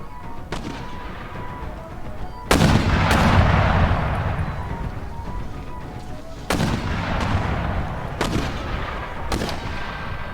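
Artillery cannon fire in the Empire: Total War video game, several heavy booms at irregular intervals, two of them especially loud with rumbling tails, over a steady battlefield din.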